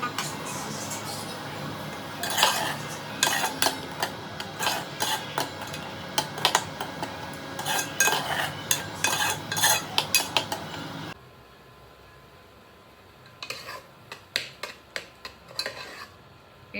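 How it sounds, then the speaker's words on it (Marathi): A utensil scrapes and clinks against a pan while onion and tomato paste fry in oil, irregular bursts of stirring over a low sizzle, pausing briefly before a few more scrapes. "थोडीशी कांदा आणि टोमॅटोची पेस्ट टाकली आहे. ती थोडीशी तेलावर परतवते."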